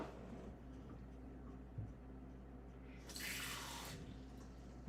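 A quarter cup of water is poured into a pan of paprika-seasoned TVP taco filling, a brief faint splashing pour after quiet kitchen background.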